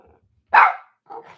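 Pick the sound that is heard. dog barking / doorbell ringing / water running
dog barking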